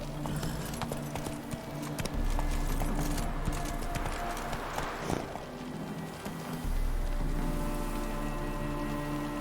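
Roach the horse gallops in The Witcher 3: Wild Hunt, with rapid rhythmic clip-clopping hooves over a constant game background hum and music that swells and drops midway.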